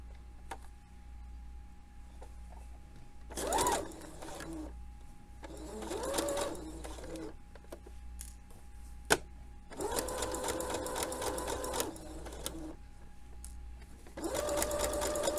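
A sewing machine stitches a crotch seam in short bursts of rapid mechanical whirring and ticking, separated by quiet pauses, close and clear.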